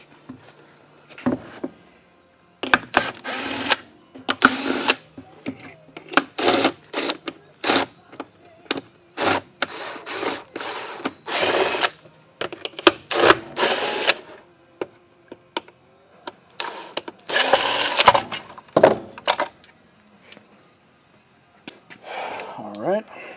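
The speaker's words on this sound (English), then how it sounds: "We're going to pull the motor cover off" Plastic motor cover being pried and pulled off a Bissell compact vacuum during a teardown: a run of sharp, close clicks, snaps and rattling handling bursts with short pauses between them.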